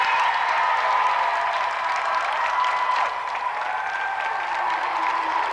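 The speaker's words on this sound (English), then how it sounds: "So let's give another round of applause for two brilliant competitors, Andy Thomas and Jim McIver." Studio audience applauding two game-show competitors, a dense, sustained wash of clapping that holds steady throughout at close range, with no voices over it.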